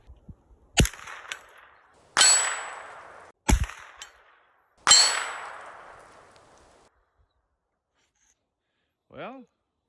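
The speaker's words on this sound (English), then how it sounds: "let's try to hit the metal at 100 yards" Ruger 10/22 carbine shots striking a steel target 100 yards away: four sharp reports, each followed by a bright metallic clang that rings out, with a faint distant sound at the end.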